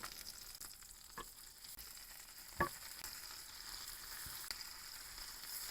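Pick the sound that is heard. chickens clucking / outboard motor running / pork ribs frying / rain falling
pork ribs frying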